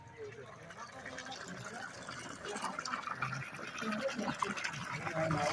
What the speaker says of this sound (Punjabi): ਆ ਦੇਖੋ ਪਾਣੀ ਪੈ ਰਿਹਾ